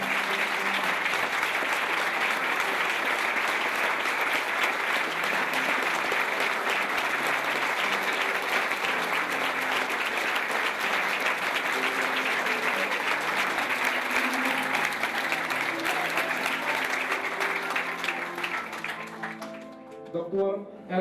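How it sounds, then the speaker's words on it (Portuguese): Long, steady applause from a ceremony audience honouring recipients of honorary doctorates, dense clapping sustained for about twenty seconds with voices underneath before it dies away. "Um aplauso para os doutores."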